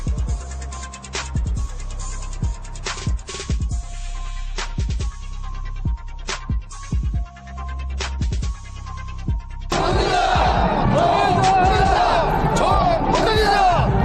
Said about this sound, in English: A rally in Pyongyang, tens of thousands of soldiers making their voices heard.